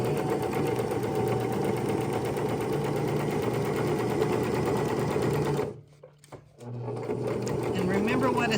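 A sewing machine stitches a seam on a purse, a fast, steady rattling hum that runs continuously, stops briefly for a second, then resumes, while someone talks over it.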